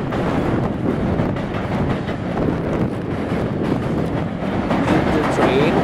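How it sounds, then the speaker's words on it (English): A Metro-North commuter train passes at Norwalk, a steady loud rumble with wind buffeting the microphone throughout, close and continuous. "That's the same train that goes to New York."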